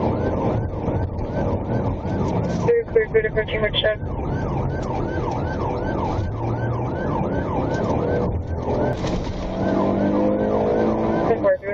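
A police car siren wails in repeated rising and falling sweeps during a high-speed chase through Virginia Beach streets, loud and continuous over engine and road noise, while a radio voice talks intermittently.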